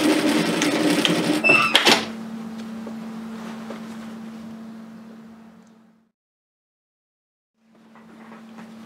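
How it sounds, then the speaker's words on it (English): A sewing machine stitches a reusable takeaway coffee holder bag: a rapid steady hum runs for several seconds, stops to silence, then starts again, heard up close after an opening clatter. "Stitch all the way back to your starting position."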